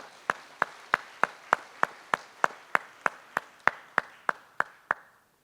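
About sixteen sharp, evenly spaced claps in a slow, steady rhythm at a conference gala dinner, close and distinct, like a single person or small group clapping.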